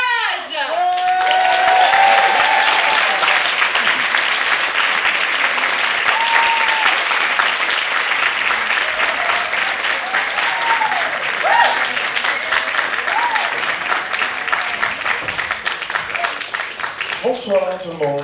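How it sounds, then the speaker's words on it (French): Loud, sustained audience applause fills the room at a poetry performance evening, with dense clapping throughout, occasional cheers and whoops rising above it, before it begins to thin at the end. "On va vous demander évidemment un tonnerre d'applaudissements pour Jage."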